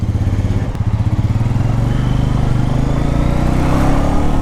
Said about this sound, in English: This is the classic Royal Enfield exhaust note.